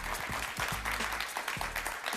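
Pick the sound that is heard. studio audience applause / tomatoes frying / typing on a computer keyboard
studio audience applause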